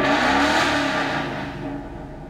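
A car engine revs hard above 4,500 RPM, a loud continuous high roar that holds and then eases slightly as the revs begin to drop, with no voices.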